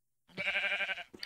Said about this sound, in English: Lots of sheep over here.